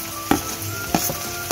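Ginger garlic paste sizzles in a pan of dry-cooking spicy pepper chicken. A constant close frying hiss runs underneath three sharp stirring scrapes spaced about evenly apart.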